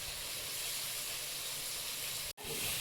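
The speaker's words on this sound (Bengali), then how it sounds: "আমি লোটে মাছ ভাজাটা দেখছি বসে বসে" Bombay duck (lote fish) frying in hot oil, a steady broadband hiss and sizzle held at an even level throughout, broken by one very brief dropout near the end.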